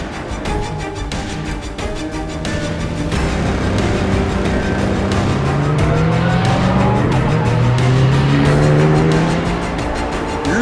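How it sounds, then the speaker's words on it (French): At the Dijon-Prenois circuit, race cars set off at the start of a one-hour ROSCAR race. A loud, dense blend of engines rises in pitch as they accelerate, with overlapping tones from several cars nearby. "Le drapeau vert est agité, c'est parti pour 1 heure de course sur le circuit de Dijon-Prenois."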